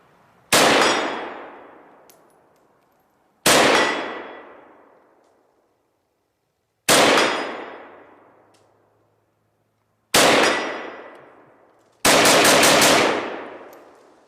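Five sharp, loud SKS rifle shots, each followed by a ringing metallic clang from a steel target, spaced a few seconds apart with long decaying rings between them. No one speaks.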